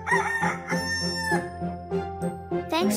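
Repeated rooster crowing, several cock-a-doodle-doo calls in a row with bright harmonic rises and falls, fairly close and clear, with no talking over it.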